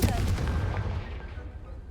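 A Confringo explosive spell goes off in the Hogwarts Legacy game, a heavy booming blast with a rumbling crackle that fades over about two seconds.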